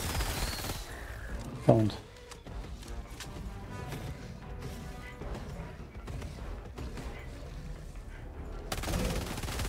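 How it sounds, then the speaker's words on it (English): A thrown grenade explodes in Helldivers 2 with one sharp, loud blast, followed by a steady wash of distant gunfire and combat noise; a voice briefly speaks over it. "Throwing grenade. I'll be dead in a second. Fire in the hole!"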